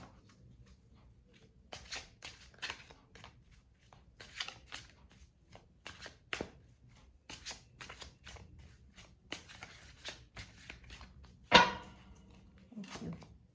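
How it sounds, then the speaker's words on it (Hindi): Tarot cards being drawn and shuffled during a reading, heard as soft, close papery riffles and flicks in irregular bursts with near-silence between them. "कुछ और कार्ड्स ले लेते हैं, देखते हैं कि आखिर क्या बता रहे हैं और कार्ड्स आपके।"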